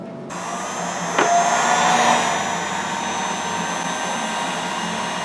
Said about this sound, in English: I'm heating this binding to get it to bend nicely around these fairly sharp corners